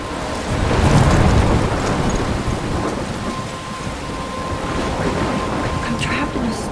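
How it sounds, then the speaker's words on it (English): Thunderstorm in the video game Life is Strange, with loud, steady rain and low rumbling thunder swelling early and then holding as a continuous near roar, with a faint voice partly under it. "I'm trapped in a storm?"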